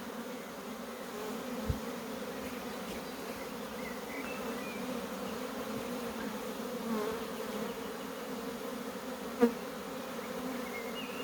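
A sizeable swarm of honey bees hums in a steady, continuous drone throughout, fairly even and close, with a couple of brief knocks and no voices.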